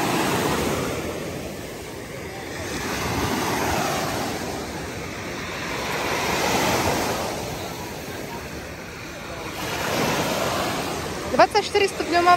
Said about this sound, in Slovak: A trošku máme vlny dneska.